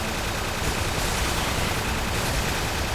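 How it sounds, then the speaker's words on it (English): Steady, heavy roar of cannon and weapon fire in the action game Earth Defense Force: World Brothers, loud and continuous with no pauses. "Firing cannon."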